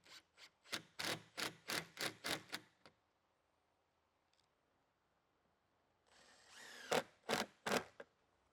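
A power drill drives 2-inch screws into a wooden base cabinet: a rapid series of about eight loud whirring bursts, a quiet pause, then a longer whine and three more bursts, close by with no talking.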